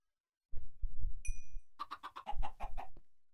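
Minecraft chickens cluck in a short burst of rapid, close clucks following a few soft low thuds, with no talking over them.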